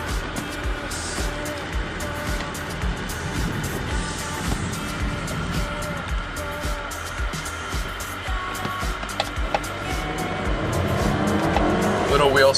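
A Volvo S90 T5 sedan accelerating hard from a standstill to 60 on a wet road, a continuous engine drone rising under tire noise, with a voice talking over it throughout.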